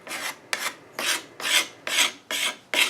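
A file rasps across wood, shaping the corners of a furniture leg in seven close, even strokes with short pauses between them, each stroke a crisp scraping rush.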